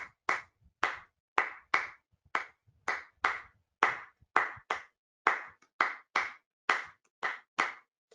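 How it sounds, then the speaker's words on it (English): Single pair of hands clapping a steady rhythm during a music therapy session for people living with Alzheimer's, sharp close claps spaced evenly with short gaps, some grouped in quicker pairs, alone with no talk. "You can either clap like this or do a rhythm like"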